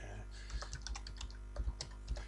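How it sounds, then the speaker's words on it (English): A computer keyboard is typed on to enter an address into a browser bar, giving quick close clicks in short irregular bursts with no one speaking. "go back to your browser and find, type into the browser bar"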